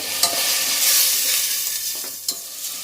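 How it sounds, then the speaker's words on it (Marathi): Onion and ginger-garlic paste sizzle steadily in a hot pan, a close, bright frying hiss with occasional soft scrapes of a spoon stirring. "हे आपल्याला छान असं एकदम लालसर होईपर्यंत परतून घ्यायचं आहे, म्हणजे कांद्याचा आणि आलं लसूणच्या पेस्टचा असा कच्चा वास निघून गेला पाहिजे."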